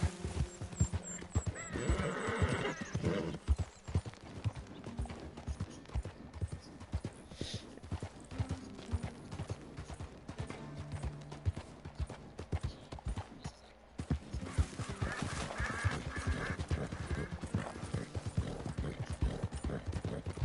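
A horse gallops in Red Dead Redemption, hooves clip-clopping in a fast, continuous rhythm close by over game ambience, with a brief drop in the middle before the pounding resumes.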